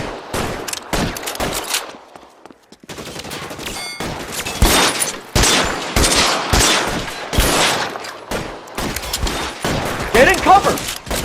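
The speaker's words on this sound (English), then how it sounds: "Lay down some covering fire." Rapid gunfire in an L.A. Noire shootout at Nicholson Electroplating, dense bursts of shots and volleys at close range, with someone shouting between them.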